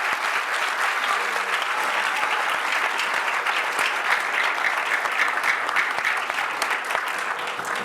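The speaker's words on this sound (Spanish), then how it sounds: "No, qué bonito aplauso." Sustained, dense audience applause fills a book presentation, steady and loud throughout with no pauses or voices.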